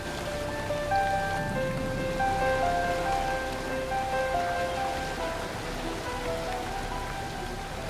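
Steady rain falls on an island, a dense, continuous patter of drops running evenly the whole time with no voices over it.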